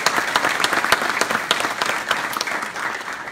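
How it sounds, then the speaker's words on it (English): An audience in Mississippi claps for a retiring official at a chancery judge's swearing-in ceremony, a lively, fairly close round of applause with distinct individual hand claps that gradually tapers off. "I ask that you give him a round of applause."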